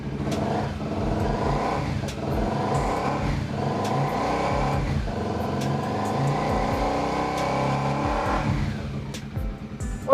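A used sport motorcycle with an aftermarket racing exhaust revs close by, blipping up and dropping back about four times before a longer sustained rev, with a gruff, raspy exhaust note.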